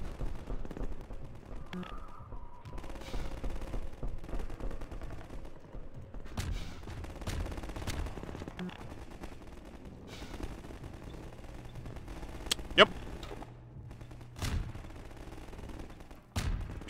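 Bursts of automatic turret gunfire from the game Half-Life 2 Episode, sharp repeated reports scattered across a quiet, busy battle ambience, some shots louder and closer than others, with no talk.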